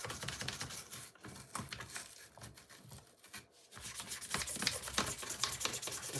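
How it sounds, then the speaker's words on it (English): RC car parts being scrubbed with a brush in brake cleaner mixed with olive oil: fast, gritty bristle strokes in irregular bursts, close and moderately loud, with a brief pause midway before scrubbing resumes. "Give it a quick scrubbage with my cleaning solution."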